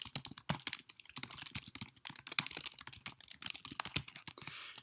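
Rapid typing on a computer keyboard while entering code for a main function, with steady irregular key clicks filling the whole stretch, close and fairly quiet with no talking.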